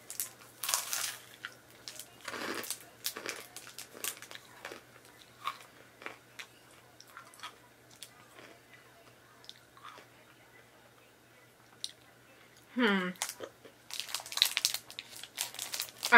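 A Violet Crumble bar of honeycomb toffee coated in chocolate, broken apart and then eaten: crisp snapping, wrapper crinkling and close, crunchy chewing in scattered bursts, with brief quiet pauses between.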